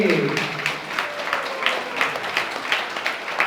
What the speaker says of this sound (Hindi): जोरों से प्रभु जी को हम तालियों से इनको धन्यवाद देंगे